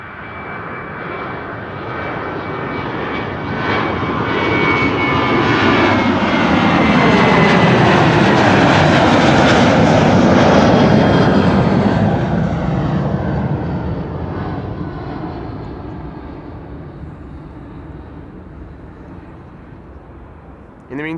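A KLM narrow-body jet airliner taking off from runway 18L at Amsterdam Schiphol, a steady engine roar that swells to a peak mid-way and slowly fades as it climbs away, heard from a distance with a broad rushing tone.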